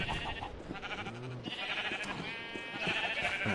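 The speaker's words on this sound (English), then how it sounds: "Okay, move, sheep." Sheep bleating in Minecraft, a short wavering bleat or two close by over a noisy background, without talk.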